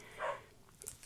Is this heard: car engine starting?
no